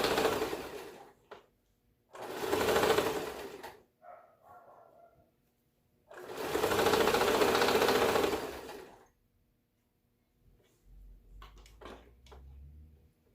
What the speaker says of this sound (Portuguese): Vou virando e vou costurando e tirando os alfinetes conforme eu vou virando.